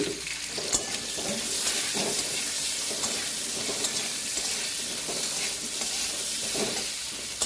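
Potatoes frying with turmeric and salt make a steady, close sizzle, with a spoon scraping and stirring through the pan throughout.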